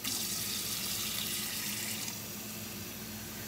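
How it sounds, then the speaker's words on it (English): Water runs steadily from a tap or is poured while making pancake batter, a continuous hissing stream that eases slightly partway through, fairly quiet and with no talking. "And then I will be adding in some water."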